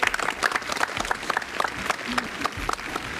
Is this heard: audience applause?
yes